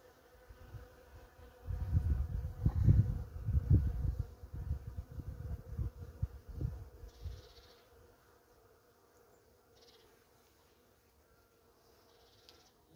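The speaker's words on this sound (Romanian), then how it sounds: "Ia uitați ce de albinare." Honey bees buzz around a lifted hive frame, a loud dense swarming hum that swells over several seconds and then thins to faint scattered buzzing, with no talk.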